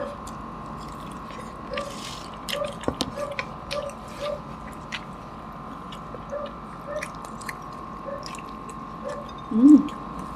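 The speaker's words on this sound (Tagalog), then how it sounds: "Maingay po yung aircon." An air conditioner hums steadily in a room during a Filipino meal of lumpia and chicken inasal, a constant faint drone under small clicks, soft chewing and mouth sounds.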